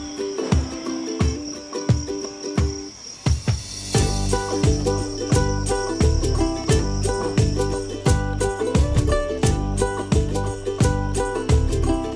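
Crickets at a cricket farm chirping in a steady, high, continuous trill. A loud rhythmic beat with musical tones runs underneath throughout, and there is no talking.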